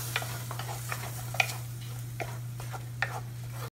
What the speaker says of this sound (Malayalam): ഇനി തക്കാളിയും കൂടെ നന്നായിട്ടൊന്ന് എണ്ണയിലൊന്ന് വാടണം.